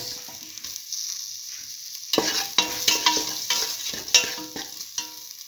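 A spoon stirs okra and split mung bean stew in a frying pan, with a soft sizzle underneath and a series of distinct scraping strokes that start about two seconds in and continue close and fairly loud.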